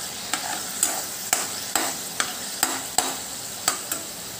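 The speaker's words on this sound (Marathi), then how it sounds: "तोही चांगला मिक्स करून घेऊया." Grated tomato stirred in a pan while cooking a green moong dal curry: a low sizzle runs underneath as a spoon scrapes and taps the pan about ten times at a fairly regular pace, close and clear, with no voices.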